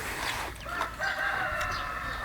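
A rooster crows loudly and close by, one drawn-out call over faint background noise.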